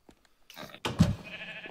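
Sheep bleating in the Minecraft modded game RLcraft, a short nasal bleat following a faint earlier sound, close and clear with no talk over it.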